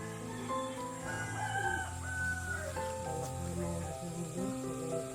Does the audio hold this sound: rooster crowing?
yes